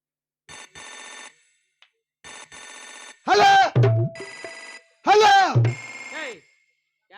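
A phone ringtone chirps in two short repeating bursts, then loud voices talk over one another close by.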